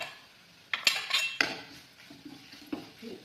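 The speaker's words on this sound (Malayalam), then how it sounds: "ഇഞ്ചി, പച്ചമുളക്, കരിവേപ്പില ഇത് ഇളക്കാൻ പോവുകയാണ്." A spoon clinks and scrapes against a pan while ginger, green chilli and curry leaves are stirred for Kerala pickle masala, with a few distinct metallic knocks and a soft sizzle between them, close by.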